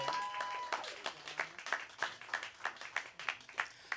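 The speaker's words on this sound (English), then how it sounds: "One more round of applause, please, for John Burr on the trumpet" Scattered applause from a small live-music crowd honours a trumpet player, with a few distinct claps standing out in a loose, uneven rhythm that thins toward sparse individual hand claps.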